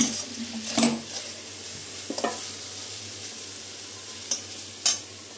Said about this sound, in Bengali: এটা একটু নেড়ে নেড়ে ঢাকা দিয়ে দেবো